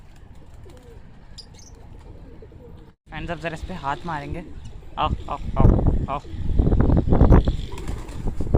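Pilka pigeons coo and flap their wings nearby, the wingbeats growing louder and busier toward the end while someone talks and calls to the birds over them.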